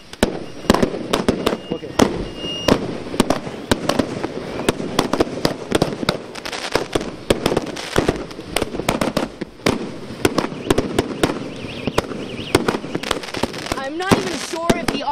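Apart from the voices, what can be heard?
fireworks at Tibetan New Year's Eve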